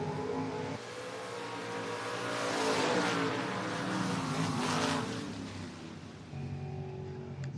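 Camaro drag race cars launching, a loud, sustained engine roar that swells to a peak and then fades, heard outdoors at a strip with no talking.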